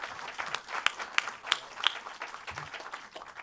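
An audience at a private concert applauds a guitarist with steady, fairly faint clapping from a small crowd that holds for several seconds, with a few sharper claps standing out, and no talking.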